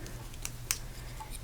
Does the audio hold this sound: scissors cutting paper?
yes